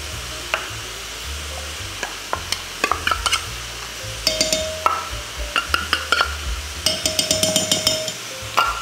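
A mustard cream sauce with lemon or lime juice is stirred in a pan, a utensil scraping and clinking against the metal in quick repeated strokes over a steady close sizzle.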